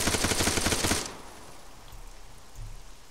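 A dense burst of crackling, hissing noise for about a second, like heavy rain on a surface, then dropping to a faint, steady patter, from rain in the video game Arma 3.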